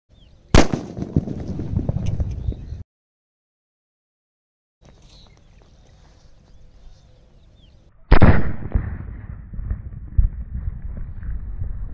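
A sharp firecracker blast bursts a Pepsi soda can, followed by crackling and fizzing; after a sudden silence, another loud bang erupts and rumbling debris noise continues.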